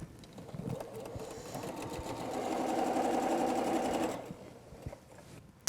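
A sewing machine stitches a quilt block for a star-filled wall hanging. It starts softly, then runs as a close, steady mechanical whir for about two seconds before stopping. No one speaks.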